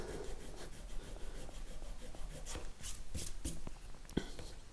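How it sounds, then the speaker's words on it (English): Abrasive rubber fret erasers rub across the frets of a Precision Bass neck during a build, giving a soft, continuous scrubbing texture with brief sharper scrapes toward the end, close and fairly quiet. "I'm going to use a set of fret erasers"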